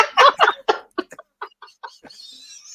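A chicken or rooster gives a run of short, loud clucks that thin out into a fainter, drawn-out high call at the end, with nothing else underneath.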